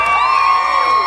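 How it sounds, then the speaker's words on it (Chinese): Thousands of fans scream and cheer at an outdoor stage during a 2023 arts festival concert, a loud sustained roar of high-pitched voices with no break. "听一下这边五千个人的尖叫声好不好？"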